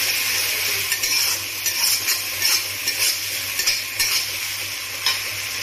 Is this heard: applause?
no